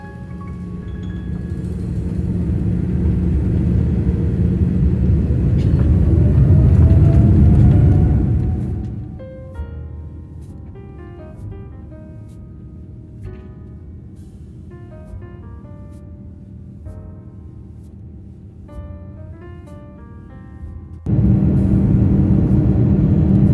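A Singapore Airlines jet takes off on a midnight flight: a loud, steady engine roar with a rising whine, heard from inside the cabin, drops to a quieter hum, then swells again near the end.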